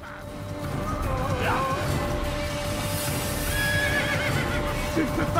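A horse in the video game Assassin's Creed neighs in a drawn-out whinny, not far off, over a steady rumbling background with some clattering.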